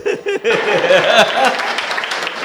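An audience at a Hindi hasya kavi sammelan comedy poetry show breaks into clapping with scattered laughter and chuckles after a brief voice at the start, the applause staying fairly steady and close.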